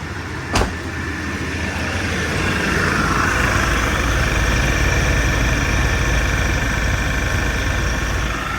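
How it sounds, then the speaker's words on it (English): The 5.7-liter engine of a 1991 GMC K1500 idles with its A/C compressor running, a steady low droning rumble and hum that rises slightly after a brief click at the start and holds evenly. "Compressor's turning good."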